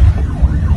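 An ambulance siren heard from inside or near traffic, its wailing tone sweeping up and down over a loud, heavy rumble of vehicle noise.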